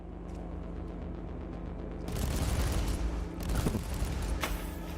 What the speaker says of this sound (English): it just sets up a turret right up there and just that shot fast and effective